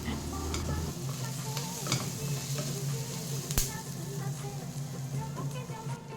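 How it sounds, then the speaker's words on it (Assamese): Paneer gravy mixture sizzling and being stirred in a kadai over a low flame, a steady close frying hiss with scraping stir strokes and one sharp clink partway through. "এইখিনি অলপ সময় মই ধুনীয়াকৈ ভাজি ল'ম এনেকৈ কেৰাহীটোতে কম ফ্লেমত"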